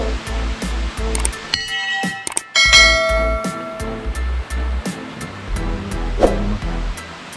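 A small waterfall at Bhimashankar temple pours in a steady rushing wash while temple bells clang and ring out sharply at intervals, with no voices heard.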